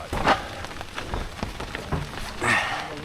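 Steady rain patters on a surface, with scattered drops and taps rising and falling, no voices, during a concrete slab pour.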